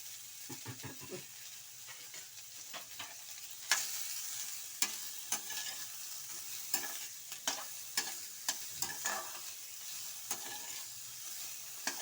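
Cut radish stir-fried in a pan for a radish palya, with a steady sizzle and clattering spatula strokes scraping at irregular intervals, some sharper clanks standing out, fairly close and moderately quiet with no talking.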